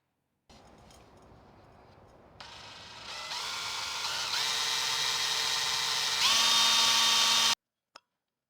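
A power drill whirs up in stages, its pitch rising as it bites into the metal of a BMW E46 M3 exhaust tail pipe, running steadily for several seconds before stopping abruptly.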